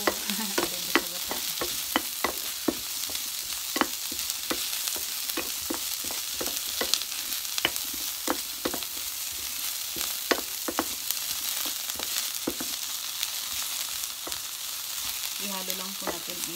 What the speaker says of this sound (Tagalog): hanggat medyo magdilaw po yung bawang natin at saka yung luya at saka ito yung sibuya.